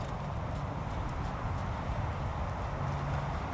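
Horse hooves walking on an arena surface during a riding lesson, a steady muffled clip-clop rhythm against low background noise.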